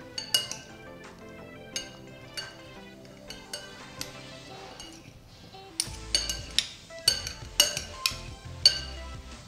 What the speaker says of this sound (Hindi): और अब हम इसे अचार को अच्छे से मिक्स कर देंगे।